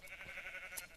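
Sheep bleating in the Minecraft video game on a farm with pigs and a cow: a faint, steady wavering bleat lasting about a second, with no talk over it.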